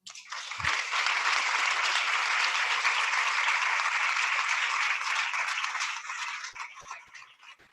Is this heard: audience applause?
yes